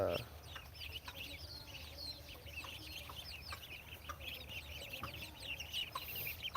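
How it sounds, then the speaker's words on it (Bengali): Ducklings on a poultry farm in Mymensingh, Bangladesh, calling in a dense, continuous chorus of high peeps, with a faint voice in the background. "এই যে আমাদের হাঁসের বাচ্চা"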